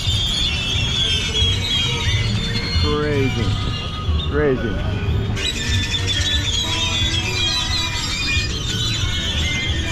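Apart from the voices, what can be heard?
many loud birds squawking at night in Mexico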